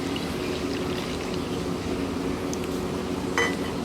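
Water is poured into an Odia-style mustard masala rohu fish curry in a pan, making a steady, close splashing hiss that lasts the whole time with a faint clink near the end.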